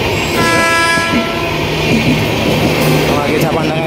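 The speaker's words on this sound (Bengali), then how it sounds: "তো দেখতে পাচ্ছ ট্রেন ঢুকে গেছে আমাদের, এবার ট্রেনে চাপবো আমরা।" A passenger train pulls into Gurap station, its loud rumble and rolling wagons filling the platform, with a horn tone sounding over the noise and people talking nearby.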